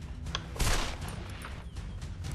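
Gunfire in the Deer Hunter 2018 hunting game during a fire-themed survival event, heard as a dense burst of shots over a steady, noisy game background.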